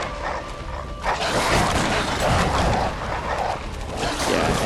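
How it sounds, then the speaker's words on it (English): Dogs in the video game Bloodborne, a series of barks and yips repeating at close range over a rough ambient background. "There's a lot of dogs here."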